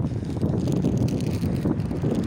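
Cold wind buffeting the microphone outdoors on a Monday afternoon walk home after rain, a steady close rumbling gust with no voice.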